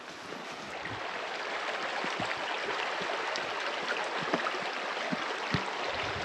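Creek water flowing steadily in a wilderness setting with cow-trodden banks, a broad continuous rushing wash with small splashes and trickles, fairly close and alone without talk.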